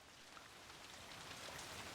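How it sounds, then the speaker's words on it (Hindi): Heavy rain pours steadily and evenly throughout, a dense, close hiss of drops drumming on surfaces with no voices or thunder. "बड़ी जोरों की बरसात हो रही है आज।"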